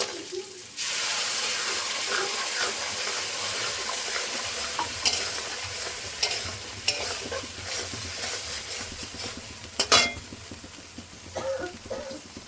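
Ground spice paste and ginger dropped into hot oil burst into a loud sizzle that holds steady close up, with occasional scrapes and clinks of stirring.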